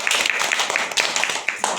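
A group, likely children in a map-reading lesson on Indian states, claps together to mark a correct answer, giving a steady, slightly uneven patter of many close hand claps for under two seconds.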